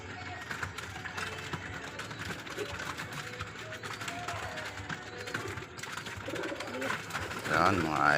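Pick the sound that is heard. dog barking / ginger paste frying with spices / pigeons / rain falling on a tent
pigeons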